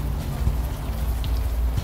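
Steady rain patters on surfaces in the video game Unavowed, a continuous soft hiss with scattered drops, moderately loud and alone.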